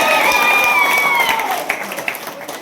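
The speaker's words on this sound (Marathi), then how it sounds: "जोरदार टाळ्या वाजवायच्या आहेत." Audience at a cricket tournament prize event applauding, a dense steady wash of clapping and crowd noise with a whistle-like tone sliding down over it, fading slightly toward the end.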